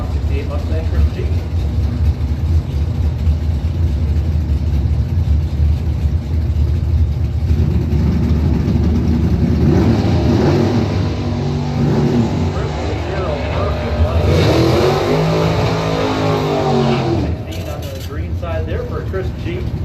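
A Plymouth Barracuda and a 1968 Mustang at a Mopar drag racing event: loud engine roar runs throughout with a rising howl of cars passing near the end, under a steady announcer's voice.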